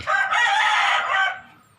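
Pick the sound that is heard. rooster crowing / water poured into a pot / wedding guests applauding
rooster crowing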